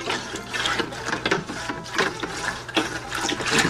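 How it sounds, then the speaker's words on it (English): Plant nutrient mix being stirred in a container of water, a busy run of clattering, sloshing and scraping strokes that carries on steadily at close range with no voices. "give it a little stir."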